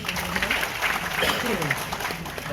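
An audience claps at a health talk, producing a continuous patter of applause from a crowd that is partly masked by a speaker's voice over it.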